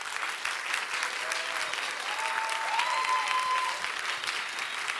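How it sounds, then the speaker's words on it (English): Audience applause at a science contest event, sustained and fairly dense, swelling slightly toward the end, with a voice briefly audible beneath the clapping. "Let's give a round of applause for them as well."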